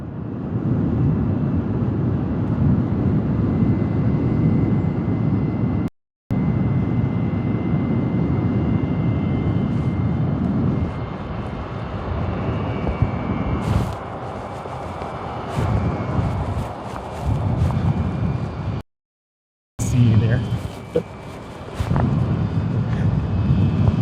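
A steady low roar of an airplane engine near Hartsfield-Jackson Atlanta airport drones on, fading and swelling slightly, with brief gaps of silence and some rustling noise.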